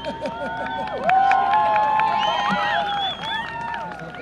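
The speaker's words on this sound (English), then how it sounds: "Everybody's cheering, that's so funny" An outdoor crowd cheers and shouts in excited waves, a bright mix of whoops and high voices that peaks in the middle, rising and falling around nearby chatter.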